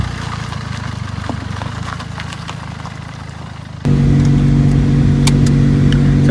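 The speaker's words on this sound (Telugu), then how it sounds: "ఇప్పుడైతే మనం చిన్న డ్రైవ్కి వెళ్తున్నాం అనమాట" A custom bagged Maruti Baleno with air suspension drives off, its engine humming steadily and then rising to a louder, sustained drone as it accelerates, with no talk.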